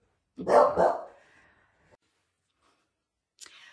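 A close, loud double bark from a dog, followed by silence and a short faint sound near the end.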